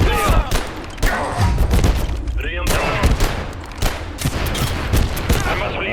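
A gun firing in the video game Abiotic Factor: rapid repeated loud shots in irregular bursts with heavy thuds, close and dominant, with brief pauses between volleys and faint speech mixed in.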